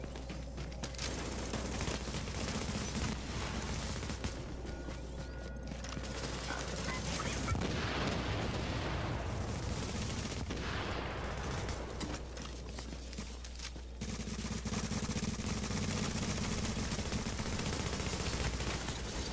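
Gunfire during a player-versus-player fight in the Dark Zone of the video game The Division, dense automatic bursts that keep going for the whole stretch, loud and close, with some faint talk.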